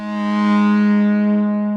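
A DeepMind 12 synthesizer holds a sustained, bright, buzzy tone through a delay effect, swelling and fading slightly with a spacious echoing tail, loud and alone, in a Boards of Canada style patch.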